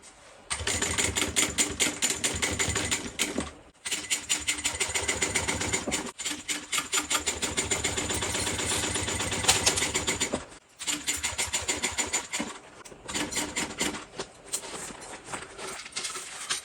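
A sewing machine stitches two rows along a fabric bag, running in fast, steady rhythmic bursts that pause briefly several times between passes, loud and close with no talking.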